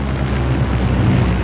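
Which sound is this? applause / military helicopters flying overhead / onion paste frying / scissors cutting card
military helicopters flying overhead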